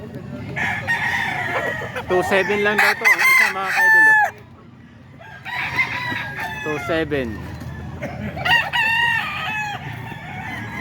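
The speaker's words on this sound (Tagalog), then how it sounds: "30 daw yung dalang manok ni Kuya Arnel dito ngayon" Roosters crow repeatedly in overlapping bursts among a crowd of about thirty gamecocks brought to a cockfighting venue, loud and close, with someone talking between and over the calls.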